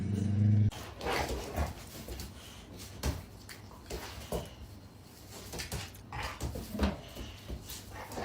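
A dog whimpers and gives short barks indoors, the sounds intermittent and fairly close, with household knocks and rustling around them.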